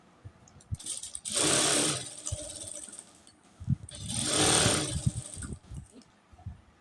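A sewing machine stitches the back neckline of a kurti in two sustained bursts, each running about a second, up close with no voices and short handling pauses between them.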